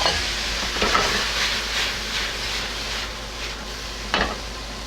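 Tomato drops into a pan of hot olive oil and bell peppers for a ratatouille, giving a moderate sizzle with a few brief bursts and scrapes as it lands and settles.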